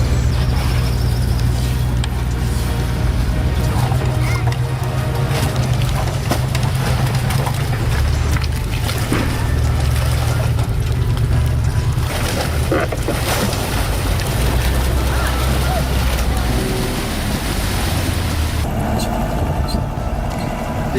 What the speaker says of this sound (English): Meet the BV206ELO, the ultimate all-terrain vehicle. It glides effortlessly over any obstacle